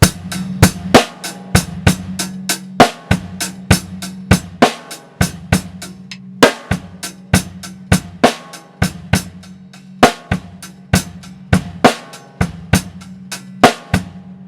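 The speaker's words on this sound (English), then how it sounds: "So it goes bass, bass, snare, bass, bass, snare, bass." A steady drum kit groove loops with punchy bass drum hits and sharp snare strikes in a repeating two-bass, one-snare pattern, with no voices.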